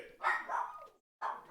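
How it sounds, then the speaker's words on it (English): A dog barks indoors in a home, several loud, close barks in two bursts separated by a brief pause. "The dog is loud."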